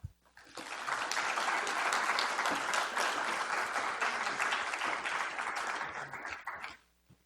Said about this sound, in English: Can we have one more round of applause for our inductees tonight?